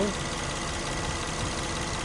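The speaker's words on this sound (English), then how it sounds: "turn on the engine." The engine of a 2013 Nissan Maxima runs steadily at idle after a radiator hose replacement, a constant mid-range hum, with a voice at the very start.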